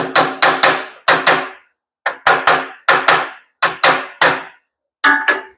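A hammer taps a Harley-Davidson front fender that is being stretched, giving about a dozen sharp, loud, close metallic strikes in quick clusters of two or three, separated by short pauses, with no talking.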